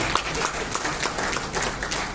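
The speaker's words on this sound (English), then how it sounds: "Make we clap for him again, I beg." An audience at the Lateef Jakande memorial lecture, organised by the NGE, claps in a dense, steady burst of applause, fairly loud and close, filling the whole moment.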